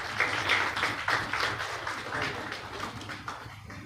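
Applause from a seated audience at an international cyber-computing conference welcome, moderately loud and steady with crowd murmur, fading slightly toward the end.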